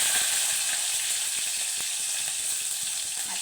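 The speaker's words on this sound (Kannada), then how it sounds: "ಎಣ್ಣೆ ಕಾದಿದೆ, ಈರುಳ್ಳಿ ಹಾಕ್ತಾಯಿದ್ದೀನಿ" Onions sizzling in hot oil while tempering a carrot and beans palya, a loud, steady crackling hiss that stays close and continuous throughout.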